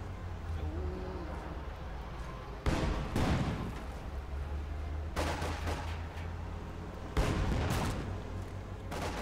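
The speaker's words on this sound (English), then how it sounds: "Going to try and barrage this up close." Artillery barrage in the real-time strategy game Company of Heroes 2, three loud shell blasts about two to three seconds apart booming over a steady low battlefield rumble.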